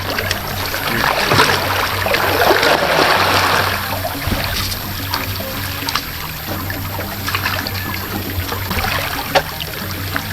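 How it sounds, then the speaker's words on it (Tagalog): Steady rushing and trickling water flows continuously into a fishpond, with a broad wash of noise and occasional small splashes; no voices. "Pumapasok ng tubig dito sa fish pan at sa ilog."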